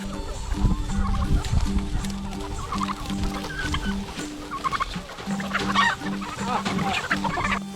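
A flock of local chickens clucking continuously close by on a goat farm, with overlapping calls from several birds and a steady low hum in the background.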